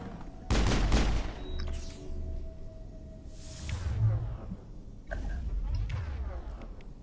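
Rocket fire in the Mass Effect video game: a loud burst opens, followed by whooshing rockets and scattered blasts amid layered battle noise, with a voice briefly heard over it.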